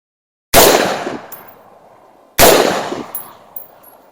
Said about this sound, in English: I'm going to shoot 2 shots at the center circle,